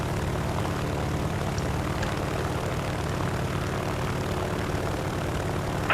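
Airplane engine in a video game, a steady loud propeller drone that holds unbroken and even throughout, with no voices over it.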